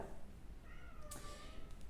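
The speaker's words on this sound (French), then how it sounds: "C'est mon chat que vous entendez." A house cat meows several times, faint and close, the drawn-out cries rising and falling over a low background hiss with no talk.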